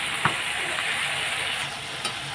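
Spices and potatoes sizzle steadily as they are stir-fried in a pan with turmeric, cumin and spice paste, a continuous frying hiss with a couple of faint scraping clinks.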